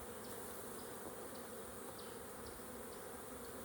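Honeybees being shaken into a new backyard hive make a faint, steady swarm hum, a constant buzzing drone with no voices over it.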